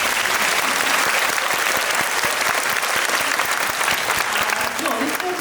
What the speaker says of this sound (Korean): 중간 박수 한번 저희